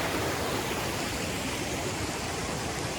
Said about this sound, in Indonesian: Akhirnya kita udah di sungai.